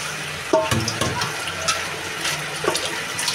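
Water runs steadily while leafy greens full of mud and sand are washed at a sink, a continuous close splashing rush with a few louder sloshes, and no talk.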